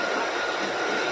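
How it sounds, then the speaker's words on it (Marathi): Train arriving at Kalyan station, a steady broadband rushing roar of rail cars, moderately loud and continuous with no talk. "आता माझी ट्रेन येईल"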